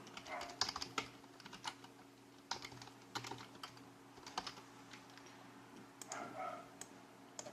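Text typed on a computer keyboard while editing in SketchUp, with quiet, close key clicks in irregular short bursts and pauses over a faint steady hum; no talk.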